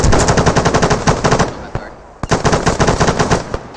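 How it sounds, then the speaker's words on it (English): Automatic gunfire in the video game ArmA 3: loud rapid bursts of shots, a brief lull, then sustained firing again, close and dominant. "We're firing, keep the firing up."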